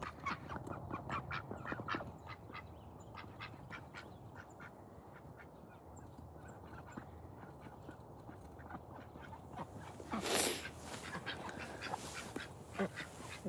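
Ducks in a poultry pen quack in quick repeated bursts at close range, with one louder honk-like call partway through over a soft background.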